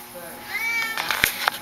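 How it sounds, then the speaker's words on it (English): Several short, high, wavering meows from a cat, fairly close and mixed with a few sharp clicks, with people talking nearby. "Doesn't anybody want to take this cat home?"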